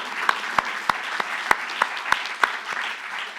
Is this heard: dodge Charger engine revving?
no